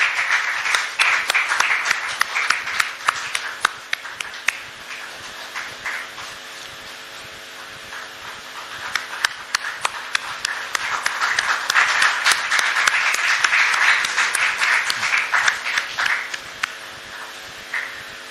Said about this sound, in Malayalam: ഒരു നീണ്ട കയ്യടികളോടെ നമുക്ക് അദ്ദേഹത്തിന് ഈ ആദരം സമർപ്പിക്കാം